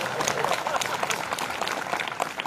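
Audience at a comedy Marathi kirtan clapping steadily for a few seconds, a dense, moderately loud patter of many hands from a crowd, with scattered murmurs mixed in.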